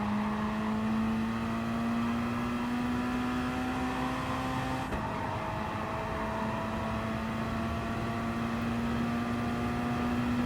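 Gr.3 race cars lap Blue Moon Infield in GT Sport, a steady engine drone with high whining tones that hold level for several seconds, dip sharply, then rise again with no voices over it.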